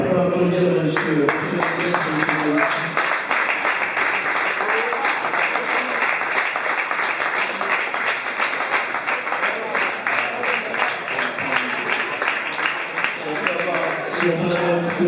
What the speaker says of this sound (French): On peut applaudir monsieur.